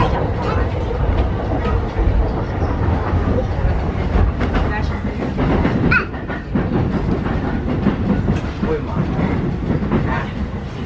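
A Tokyo subway train rumbles steadily along with rhythmic clattering and squeals from the wheels, loud and close, with voices talking under the noise.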